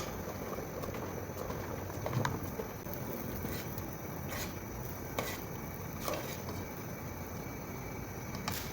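Pot of tomatoes, bitter gourd and beans boiling on the stove, a steady bubbling and simmering hiss that runs throughout, with a few faint clicks and knocks.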